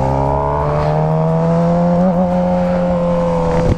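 A crashed Suzuki GSX-R 750 motorcycle engine holds a loud, close, steady high rev with a strong droning hum, wavering slightly midway before briefly dropping at the end, with no voices.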